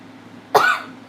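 A single sharp cough bursts out close by after a quiet moment, then fades quickly.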